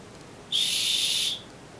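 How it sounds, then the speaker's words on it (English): A single shrill blast from a small survival-kit whistle, sharp and steady, held for under a second against quiet background before cutting off. "It has a whistle."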